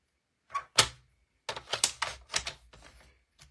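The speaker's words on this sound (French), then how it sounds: "Et puis, je vais prendre le massicot." A paper guillotine cutter trims a label: a couple of sharp isolated clacks, then a quick run of snapping blade and handle thunks, ending with one faint knock, close by with no talk.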